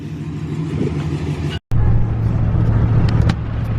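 Steady low rumble of a car driving, heard from inside, with a momentary dropout partway through.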